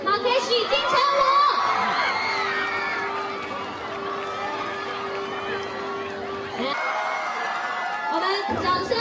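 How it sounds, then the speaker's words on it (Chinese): A crowd cheers and shouts for Takeshi Kaneshiro arriving at a Red Cliff press conference. Loud excited voices and screams mix with a host talking over the noise, with a steady tone underneath and a short lull before the cheering swells again. "哇，我们可以看到整个 B 台都有欢呼声了哦。"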